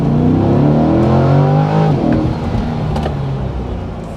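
Chevrolet C8 Corvette V8 pulling hard under acceleration, a loud, continuous engine roar with rising harmonics that peak then ease off, with road noise underneath and no talking.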